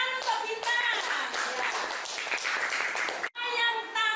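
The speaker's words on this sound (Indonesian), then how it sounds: "Iya, tepuk tangan untuk Bintang" Children clapping in a sixth-grade primary school classroom in Surabaya, busy close claps mixed with young voices, broken by a brief cut before the clapping resumes.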